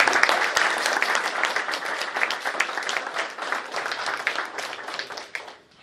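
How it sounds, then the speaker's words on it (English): An audience at a talk applauds, a dense, loud burst of many hands clapping that holds steady and then tapers off near the end, with no voices over it. "let's give him a round of applause"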